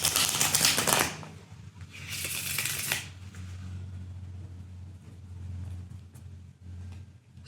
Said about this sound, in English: Just going to reshuffle my deck again.